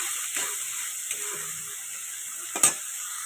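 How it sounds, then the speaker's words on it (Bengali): Ginger paste and spices sizzle in hot oil for a fish curry, with a steady close hiss and a few soft scraping stirs, ending in one sharper clatter. "আদা বাটা দিলাম, ভালো করে মশলাটাকে তেলের মধ্যে নাড়াচাড়া করবো যাতে না কাঁচা গন্ধটা বেরোয়।"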